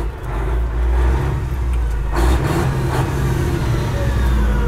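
A 1996 Kenworth W900 pre-emission truck engine gives a deep, steady diesel rumble with a loud low drone. Its note swells slightly partway through, close and continuous, with no talk.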